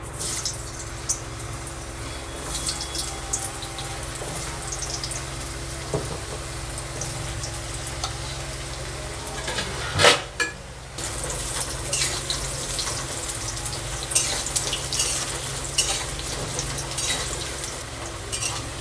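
Potatoes fry in hot oil in a kadai, giving a continuous loud sizzle with scraping and stirring clatter, a sharp utensil knock near the middle, and crackling that continues to the end.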